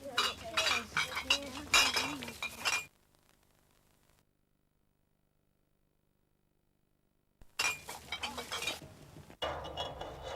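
Glass bottles clink and rattle as they are pushed into a bottle bank, a busy burst of bright clattering, then near silence, then more clinking and knocking glass, close and fairly loud, no talk heard.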